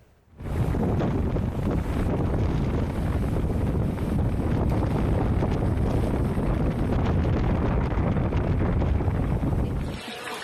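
Strong storm wind from Cyclone Montha in Ongole, Andhra Pradesh, roars hard and continuously into the microphone, a dense buffeting blast that holds steady for about ten seconds before cutting off.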